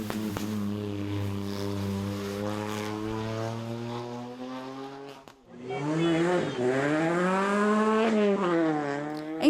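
A Kia Picanto rally car on mixed tyres races up the Caramulo hillclimb, its engine holding a steady loud drone, briefly dropping off, then revving hard through rising and falling gear changes.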